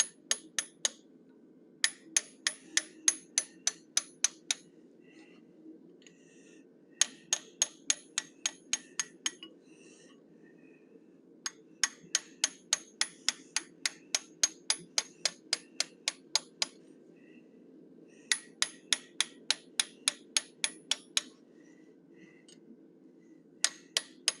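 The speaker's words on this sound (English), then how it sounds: "I'm using my 1/8 inch fuller again. I'm going to flare it and texture it." Hot metal is struck with a hammer on a 1/8 inch fuller to flare and texture it, sharp ringing metallic blows in rapid bursts of about eight to twelve, separated by short pauses, close and clear over a low hum.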